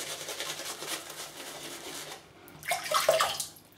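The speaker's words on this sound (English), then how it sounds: "Just putting more water in that brush." Water splashes and trickles into a shaving brush loaded with sandalwood shaving cream, a soft wet hiss and rub over several seconds, then a brighter splashing burst near the end.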